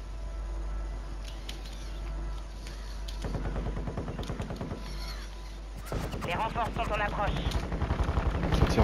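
Rapid gunfire bursts in a Fortnite-style battle royale match, sharp repeated shots growing denser and louder toward the end, with players talking over the shooting.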